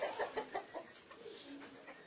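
Brahma chickens in a poultry shed give a quick run of soft, rhythmic clucks, fairly quiet and close, fading into lower murmuring calls.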